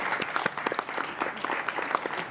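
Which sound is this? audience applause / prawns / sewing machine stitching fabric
audience applause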